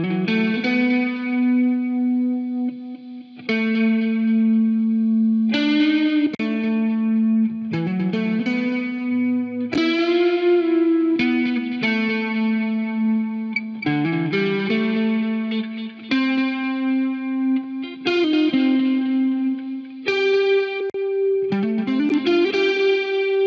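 A soloed lead electric guitar track from a song being mixed plays a continuous melodic line of sustained, effects-laden notes with chorus-like shimmer and some distortion, loud and unaccompanied for over twenty seconds.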